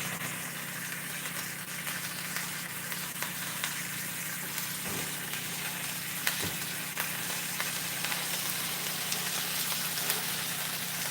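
Food frying in a pan with a steady, close hiss and crackle of sizzling fat, a continuous sizzle throughout with a couple of brief knocks, no talking.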